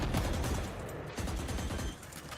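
Rapid gunfire crackles in a Valorant match, with dense overlapping shots in a loud, continuous burst over roughly two seconds and no speech.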